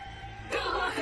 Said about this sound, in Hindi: आत्माओं की ये चीखती आवाज सुनकर राय बहादुर समझ गए कि चांडाल आत्माओं की शक्तियां फिर से आजाद हो चुकी हैं।